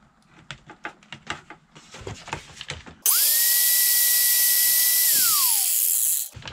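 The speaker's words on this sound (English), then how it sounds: "a flap disc on a grinder will cut down West System epoxy like you wouldn't believe" An angle grinder fitted with a flap disc grinds down cured West System epoxy, spinning up sharply and holding a loud, steady high whine for about three seconds before spinning down, after a stretch of clattering handling noises.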